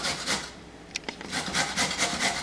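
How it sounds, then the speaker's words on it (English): Carrots are grated by hand on a grater, making rough, rasping strokes in a loose repeating rhythm, close and moderately loud, with a brief pause in the middle. "I prefer grating carrots myself because that you ensure that they're fresh"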